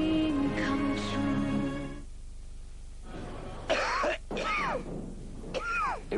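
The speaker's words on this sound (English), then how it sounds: "Shut that cough up." Several harsh coughs break out after a musical tone in a Meltus cough medicine advert, rough throaty bursts spaced a second or so apart.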